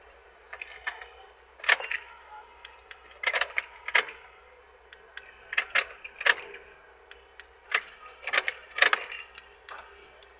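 A key is turned on and off in the ignition of a Honda Pilot, giving several clustered jangling and clicking bursts at a steady pace, up close, with no talking.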